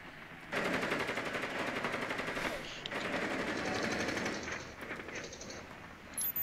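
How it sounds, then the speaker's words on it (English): Sustained automatic gunfire in Rainbow Six Siege during Terrorist Hunt, loud rapid rattling bursts lasting several seconds with brief pauses and faint echoing shots afterward. "Someone's getting shot at."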